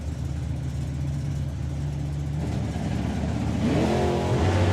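A drag racing car at a drag strip launches off the line with a wheelie, its engine note swelling from a steady distant drone into a louder, rising rev near the end.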